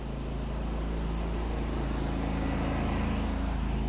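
A pressure washer engine drones loud and steady at close range while the telescopic cleaning pole is in use, a continuous low mechanical rumble with a constant hiss and no speech.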